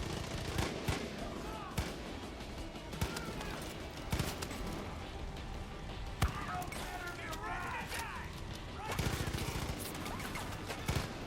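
Rapid bursts of automatic gunfire and single shots ring out during a Far Cry 5 firefight, loud and repeated across the whole stretch, with excited players talking over the shooting.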